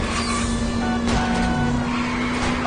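Car engine hum and tire noise during a police car chase in the video game L.A. Noire, with a steady tonal drone and a brief swell of squealing or skidding midway, fairly subdued.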